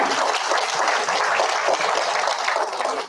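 Sustained, loud applause from a seated audience at an annual award ceremony dinner, a dense steady wash of clapping with no break.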